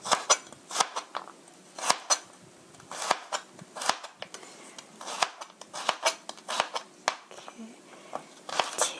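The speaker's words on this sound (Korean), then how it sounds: "빨리 썰어서 다리는 게 그래도 제일 빠르지 이렇게 해서 다져주세요" A knife chops and minces ingredients for tofu with meat sauce on a cutting board, with quick, close, irregular bursts of sharp knocks and short pauses between runs.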